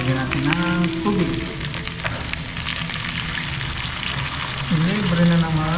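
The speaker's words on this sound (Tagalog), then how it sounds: "Lagyan natin ng tubig." Water is poured into a hot pan of cooking fish, setting off a loud, steady sizzle and bubbling hiss that runs throughout, with people talking over it.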